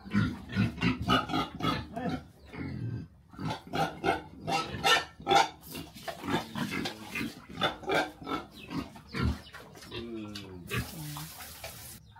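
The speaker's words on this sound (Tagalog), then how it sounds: "Mag-alaga ng mga baboy." Repeated pig grunts and snorts, close by and fairly loud, in an irregular stream with brief pauses, a splash of water-like noise near the end.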